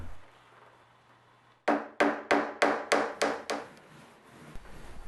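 A hammer drives nails into thin wood slats along the edges of a box for a dropped ceiling light box, giving six or seven sharp, evenly spaced close taps in quick succession after a quiet start.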